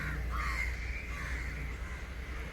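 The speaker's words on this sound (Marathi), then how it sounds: "ह्या सगळे कावळे जमली" Crows gather and caw at a garbage dump piled with waste and chicken entrails. Several harsh caws sound at a moderate distance over a steady low background rumble.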